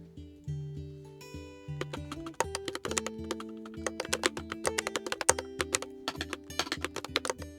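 Typing on a Keychron Q11 split mechanical keyboard, a brisk run of crisp key clicks that starts slow and quickens, with a melodic background tone underneath.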